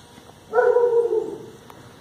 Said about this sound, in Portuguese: Latidos.